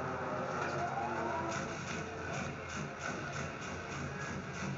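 Car driving in Mercenaries 2, a steady engine rumble with road noise that holds throughout at moderate loudness, with faint rhythmic pulses.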